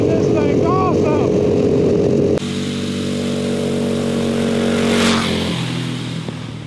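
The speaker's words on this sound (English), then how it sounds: "Such a nice vintage go-kart." A vintage drift go-kart engine runs steadily nearby, a droning buzz that drops to a slightly lower, rougher pitch partway through and then swells a little before settling.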